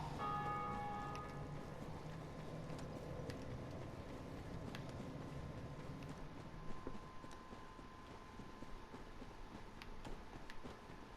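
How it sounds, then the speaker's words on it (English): A bell tolls in Dark Souls Remastered, its ringing tone fading slowly over a quiet, hollow ambience with a few faint clinks and thuds, no voices. "Someone's ringing the bell."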